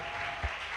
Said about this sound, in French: Est-ce qu'on peut bien acclamer le Seigneur?